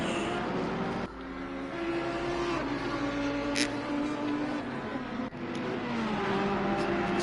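Race cars at Misano in the Assetto Corsa Competizione racing game drone with steady, loud engine tones that rise and shift in pitch as they run close together. A couple of sharp cuts and short clicks break the roar.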